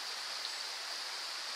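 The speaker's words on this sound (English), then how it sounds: "we come to St. Nectans Glen Waterfall" Steady broadband rush of the waterfall at St Nectan's Glen, a constant even roar of falling water with no pauses, fairly close and moderately loud, with no voices.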